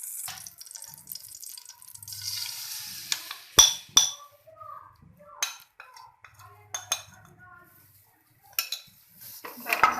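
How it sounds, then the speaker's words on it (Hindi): A spoon scraping and clinking in a greased pan as besan batter is stirred continuously over a low flame, with metallic knocks and wet scraping near and fairly loud, no speech. "बैटर डालने के बाद इसको हमने मुसलसल हिलाते रहना है, रुकना नहीं"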